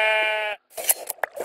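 A single sheep bleat from a video game, the white-wool kind, rings out clearly with a steady buzzy tone, then breaks off and gives way to scattered clicks and brief game noises.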